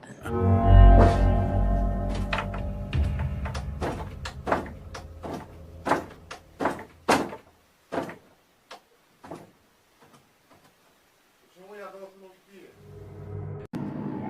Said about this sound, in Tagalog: Isa na namang pintuan na nakuna nagbubukas sara